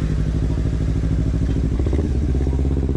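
Powerful, beefy motorcycle engine running in a riding clip, a loud, steady throbbing rumble with a rapid pulsing beat throughout, close and continuous.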